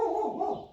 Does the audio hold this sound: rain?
no